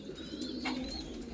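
A female kalanka patta pigeon coos softly at close range, a low, rounded rolling call repeated through the moment, faint against quiet background hiss with no voices.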